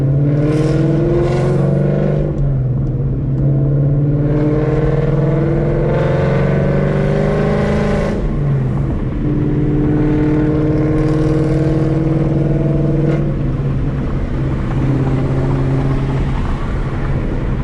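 A car engine running a LUND Racing ghost cam tune while driving and slowing to a stoplight, a loud, close, lumpy droning rumble with shifting revs and a choppy idle-like pulse throughout.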